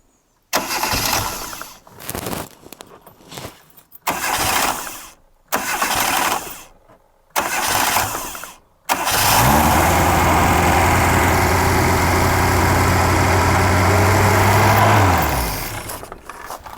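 A 1998 Reliant Robin's small engine cranks in several short bursts with pauses between, then catches and runs at a steady high rev, apparently held up by a stuck throttle cable, before dropping off near the end. Close and loud, with no talk.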